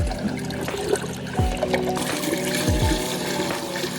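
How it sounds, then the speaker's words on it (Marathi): Water from a household water pot is poured into a can on a farm, a continuous splashing trickle with several sharp gurgling glugs as the flow shifts, close by and alone. "इथं कॅन आहे ना भरू आपण पाणी"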